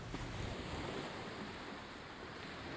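Sea waves wash and splash against a crumbling clay cliff on the Withernsea coast, a faint, continuous roar of surf mixed with wind buffeting the microphone.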